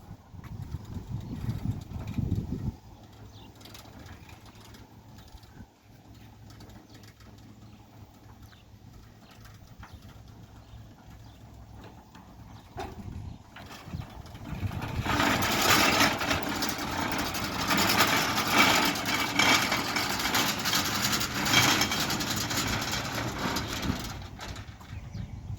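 Centurion D5 Evo sliding gate motor running through its cycle: a low hum at first, then a quieter stretch, then a louder rumbling drive with rattling for about ten seconds before easing off, with no talking.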